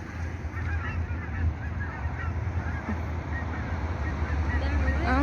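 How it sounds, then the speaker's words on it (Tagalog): A flock of migratory geese honk and call continuously from a distance in Neepawa, Manitoba, layered over a steady low rumble, with people talking excitedly nearby. "Look at those birds."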